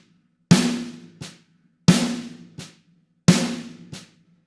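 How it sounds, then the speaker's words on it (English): A drum plays three pairs of strokes, each a loud accented hit with a ringing decay followed by a much softer ghost note, evenly spaced and close, with silence between. "an accented note followed by an unaccented note or a ghosted note"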